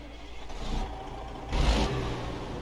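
The engine of a Kenworth K100 cabover truck in American Truck Simulator cranks and starts, rising into a brief low revving rumble, fairly faint and with no voices.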